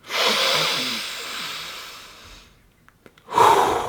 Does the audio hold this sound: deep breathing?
yes